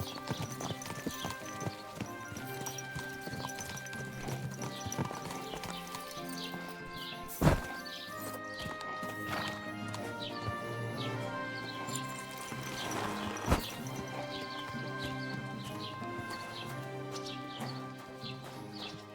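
Horse hooves clip-clop steadily during riding in Kingdom Come: Deliverance 2, a quiet rhythmic trot under game music, with birdsong, occasional thuds and brief speech.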